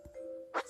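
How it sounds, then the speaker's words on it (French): A bell item rings in the mobile puzzle game Pokémon Café Mix, a brief soft chime that ends in one bright ding over quiet game sounds. "Je pense que je vais utiliser la cloche."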